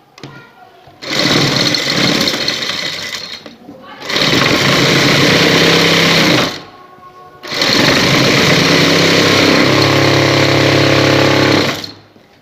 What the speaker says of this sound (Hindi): 7 इंच पे रख के मैं इसको अंदर वाली सिलाई लगाऊंगी।